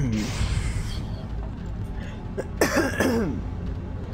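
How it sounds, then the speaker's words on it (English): A person coughs a few times while playing a first-person shooter game, a short harsh burst near the middle standing out over steady game background noise and rumble. "Sorry about the coughing."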